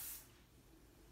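A short burst of Aquage finishing hairspray hisses close up, then quickly fades into quiet background noise.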